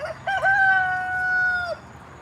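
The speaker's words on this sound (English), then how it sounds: "cock-a-doodle-doo" A rooster lets out a single loud, close crow with a sustained, wavering tone that falls away at the end, followed by quiet.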